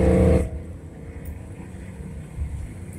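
A Dodge car drives along a track with its window open, giving a steady low rumble and wind buffeting; a loud gust hits at the start, then a softer continuous road and engine drone carries on alone.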